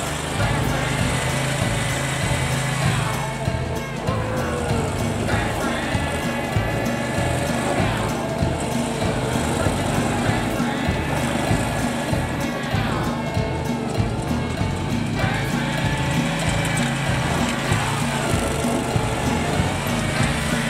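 A Dixie Chopper riding lawn mower, once billed as the world's fastest, runs continuously with a steady buzzing engine drone and small rises in pitch and load as it is driven around.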